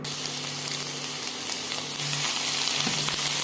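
Onion and chilli paste added to cumin frying in hot oil, giving a loud, steady sizzle and hiss throughout, with no voices.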